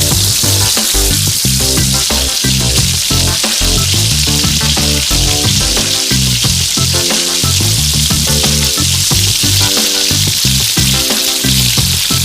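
Pork chops sizzle loudly and continuously in a hot pan, a dense crackling and spitting with no voices.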